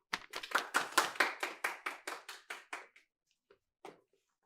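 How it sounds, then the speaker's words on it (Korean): An audience at a school academic podium event claps to welcome a speaker, a quick run of distinct claps that fades out and ends with a few scattered claps. "한국 측 대표를 박수로 맞이해 주세요"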